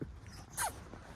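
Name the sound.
dog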